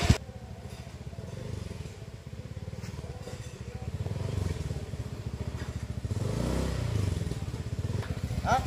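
A motorcycle engine chugs steadily while riding over a rough, damaged hillside road, with rattling and clattering mixed into the continuous close engine throb.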